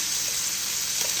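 A brief, soft, steady hiss of chicken frying in a pan, heard close up with no voices.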